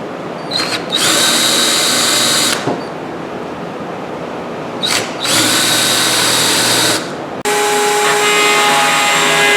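Power drill boring angled holes into the back brace of a low paddle-back wooden chair, loud close whining bursts in three long runs separated by brief pauses.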